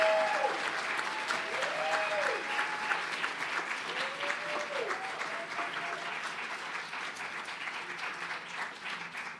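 A school community audience at an Art & Soul evening event claps in steady, moderately loud applause that gradually thins and fades, with some voices calling out over it.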